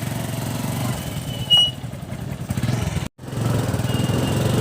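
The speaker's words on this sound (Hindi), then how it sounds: "तो देखिए बाइक स्टार्ट कर रहे हैं और हम दोनों चलेंगे साथ में।" A motorcycle engine runs steadily beside a temple gate in Khalilabad, a constant low, throbbing idle that is loud and close. It cuts out for a moment near the end and then resumes.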